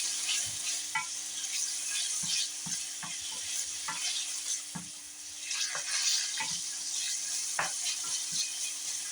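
Ham browning in a pan on the stovetop gives off a steady sizzle and frying hiss throughout, broken by occasional soft clicks and stirring scrapes.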